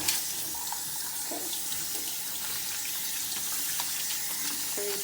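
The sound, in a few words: rinsing meat under running tap water in sink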